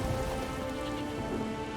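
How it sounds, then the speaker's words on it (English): Rain falling in The Witcher 3 video game, a soft, steady patter over a faint sustained ambient tone, quiet and even for a couple of seconds. "There's no point standing here in the rain."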